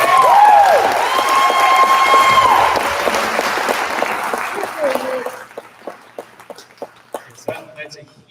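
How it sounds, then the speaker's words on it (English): Audience applause for a high school band at a spring concert erupts with a ringing sustained tone at first, then thins into scattered, fading claps. "can we please give a round of applause to this band?"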